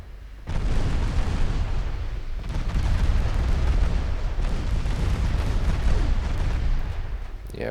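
Rapid, overlapping booms of warship secondary guns in the naval game Ultimate Admiral Dreadnoughts, a dense, sustained barrage of artillery fire rumbling continuously and loudly for several seconds with no voices.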